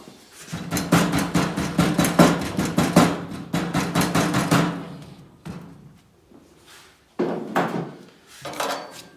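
Rapid, loud hammer blows strike a stainless steel firebox for a Masterbuilt 560/1050 grill in fast bursts of repeated strikes, pausing briefly between volleys, close by with no talking.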